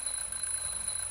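Smoke detector alarm in the game The Journey Down, a sustained high-pitched electronic tone ringing steadily and faintly with no voices.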